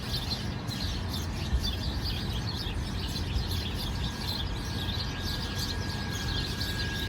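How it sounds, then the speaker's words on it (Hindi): Many small birds chirp and twitter together in a tree outside a gurdwara in the early morning, a steady, busy chorus, moderately close, with a constant hum of outdoor background noise. "इस पेड़ पे चिड़ियाँ बोल रही हैं,"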